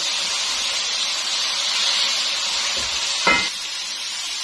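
Tomatoes frying in a pan for Mughlai chicken changezi, with a steady close sizzle throughout and a brief scrape of stirring near the end.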